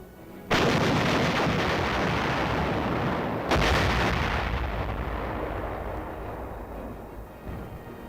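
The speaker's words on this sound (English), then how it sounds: "The commanding officer passes the information on to the artillery, and they go to work." Heavy military artillery fires in two loud booming blasts, one at the start and another about three seconds later, each followed by a long rumbling roar and echo that slowly fades, with no voices.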